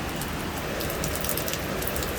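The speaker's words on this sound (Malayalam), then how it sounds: "അപ്പോൾ പുറത്ത് നല്ല കോരിച്ചൊരിയുന്ന മഴയാണ് കേട്ടോ." Heavy rain pours down outdoors in a steady, dense hiss with scattered drop patter, constant and fairly loud throughout with no voices.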